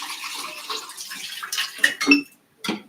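Water splashing and trickling as a Hario Pegasus pour-over coffee brewer is rinsed out, a short uneven run of pours and drips with a brief pause near the end.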